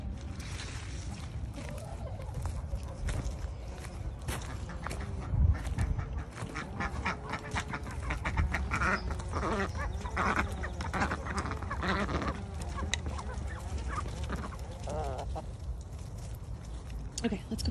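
Ducks quack repeatedly close by in a backyard, with chickens mixed in, while a person talks over them.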